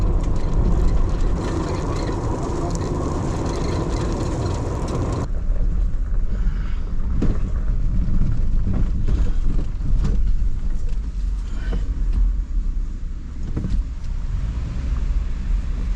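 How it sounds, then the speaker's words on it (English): A vehicle on Nitto Trail Grappler tires drives a gravel forest road in Pisgah National Forest, North Carolina, with a loud, continuous rumble of tires and road noise, scattered rock kicks and a sudden shift in the noise partway through. "really kicking up some rocks with the Nitto trail grapplers, but cool gravel road, fun to drive on"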